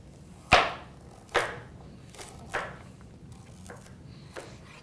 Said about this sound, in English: a good way to hold a knife is to put the tip into the cutting board and, just kind of rock it back